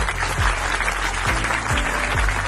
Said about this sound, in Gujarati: એ બદલ એમના માટે આપણે સૌ લોકો તાળીઓ વગાડશું